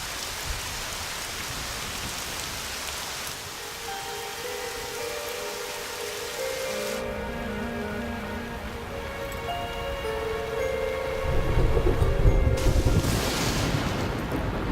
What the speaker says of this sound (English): Oh, storms are coming.